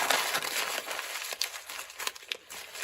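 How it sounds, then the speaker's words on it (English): A piece of paper packaging is crumpled by hand for a junk journal project, giving quiet irregular crinkling and crackling bursts, close and alone. "And then I'm going to crumple it."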